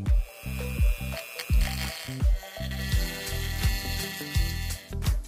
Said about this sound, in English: this lid is actually welded to the body around the edge, which a carbide burr tip makes quick work of